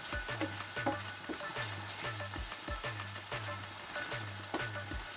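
Creamy salmon being stirred in a pan, with a bubbling sizzle behind regular, rhythmic stirring strokes at about two per second, close and steady.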